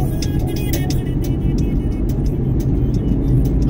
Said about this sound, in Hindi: लेकिन ट्रैफिक बहुत है